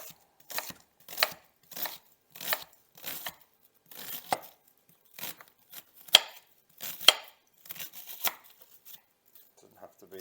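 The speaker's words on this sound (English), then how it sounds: "So just going to dice that." A knife dices ingredients for garlic and mushroom pasta on a board, in crisp, rhythmic bursts of quick chops separated by short pauses, close and clear with no talking over them.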